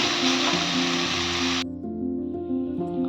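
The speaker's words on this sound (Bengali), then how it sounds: "হাই ফ্লেমে আমি একটু লাল লাল হওয়া পর্যন্ত ভাজবো" Broad beans fry in a pan over a high flame, giving a loud, steady sizzle that cuts off abruptly midway and leaves a quieter hum with faint crackle.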